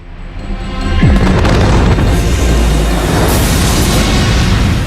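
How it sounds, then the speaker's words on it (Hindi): A loud, deep boom of an asteroid striking Earth erupts suddenly and swells into a sustained roaring rumble that fills the space and carries on without fading. "और बहुत बड़ा धमाका हुआ।"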